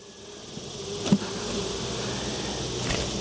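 Honeybees swarm around an open hive during a colony inspection, their soft continuous buzz droning steadily at a low level with a faint tonal hum and one brief nearby knock.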